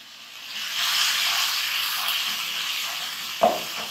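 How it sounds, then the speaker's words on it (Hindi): Onions frying in a pan with spice paste for khara masala dum chicken, a soft continuous sizzle with a single sharp clack of a utensil near the end, no voices. "साथ ही अब हमने ये प्याज भी ऐड कर देनी है इसमें।"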